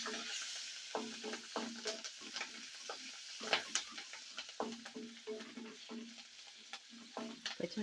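Cumin seeds and chopped green chillies fry in hot oil with a steady sizzle, broken by repeated sharp scrapes and clinks of stirring, close and fairly quiet with no voices.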